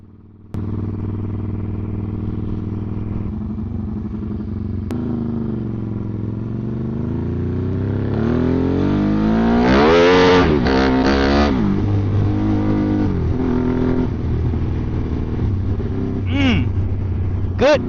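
A Honda Grom fitted with a swapped Ducati 1199 L-twin engine idles with a deep throb, then revs hard in rising, falling sweeps with sharp throttle blips, loud and close; a voice is heard briefly.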